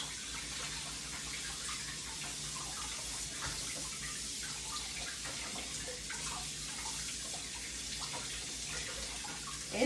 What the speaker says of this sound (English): Make sure you rinse it real good.